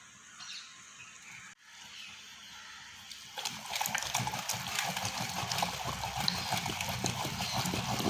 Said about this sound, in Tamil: இப்போ இந்த கீரையை சட்டியில் சேர்த்து கடைஞ்சிக்கலாம்.